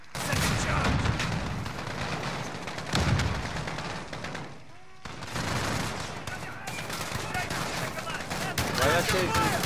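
Heavy gunfire in the Modern Warfare video game, rapid bursts and automatic fire with booming impacts, loud and continuous apart from a brief lull near the middle.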